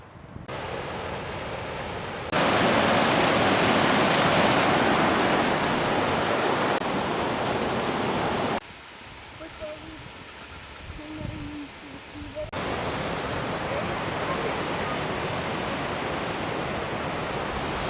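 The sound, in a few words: waterfall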